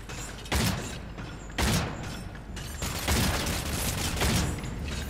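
Gunfire in the video game Cryostasis comes as heavy, spaced blasts with mechanical clacking in between, loud and near, over a steady background and no talk.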